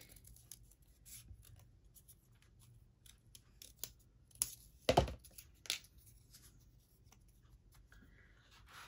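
Paper is cut with scissors while a rosette pumpkin is being crafted; a few quiet snips come alone, with one louder, sharper cut near the middle against a faint background.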